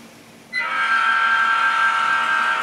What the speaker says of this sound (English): that red train is coming in at speed 4